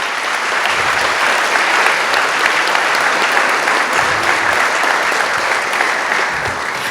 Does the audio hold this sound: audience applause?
yes